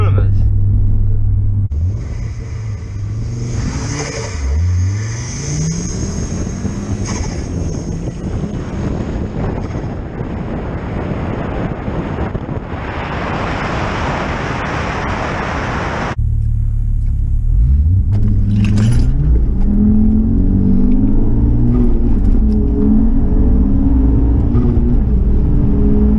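A turbocharged XR5X4 car revs hard with wheel spin, a loud rumbling engine rising and falling through several pulls, with wind buffeting the microphone and a sharper roar partway through.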